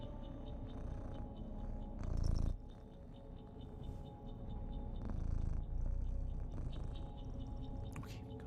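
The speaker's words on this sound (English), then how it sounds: "He started purring" A cat purrs in a steady, low, continuous rumble, faint and unbroken, with no one talking over it.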